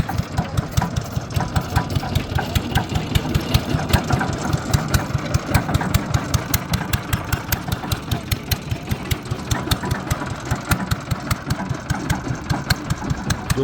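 Engine of a water well boring machine drilling a new tube well in Pakistan, chugging loudly at a rapid, even, unbroken beat.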